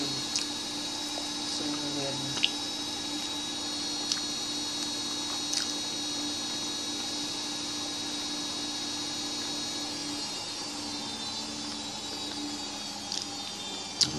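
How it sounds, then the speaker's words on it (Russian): A washing machine runs with a steady mechanical hum and drone throughout, with faint squishing and occasional clicks, churning nearby. "слышите, как у нас стиральная машинка работает?"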